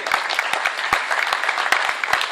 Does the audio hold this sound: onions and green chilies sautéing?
no